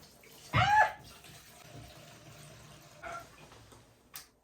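Gasoline pours briefly into a container with a gurgling splash near the start, followed by a few quiet clunks and trickles.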